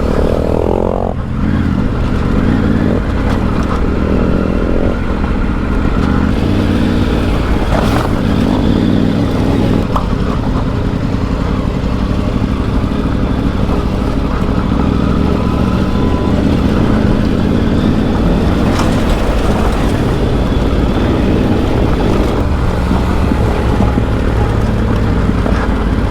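A Kawasaki KLX 230 and a Triumph Tiger 900 ride an off-road rally stage, their engines droning close and steady throughout with rising and falling revs and rough scraping road noise.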